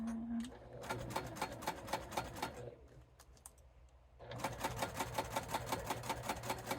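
A sewing machine back stitching a bifold wallet at stitch length 4, giving a fast, even run of clicking stitches that pauses briefly partway and then resumes, close and alone.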